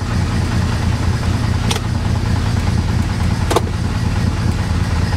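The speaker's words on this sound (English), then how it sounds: "Okay, now it's running off of its gas." A 1957 Plymouth two-door barn find, parked over twenty years, idling steadily on its own gas with a loud, close, rumbling engine drone, broken by two brief sharp clicks or knocks.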